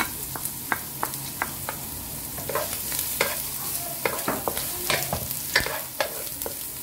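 Garlic frying in a pan, a close, steady sizzle broken by frequent sharp crackles and spatters, with occasional scraping from stirring throughout.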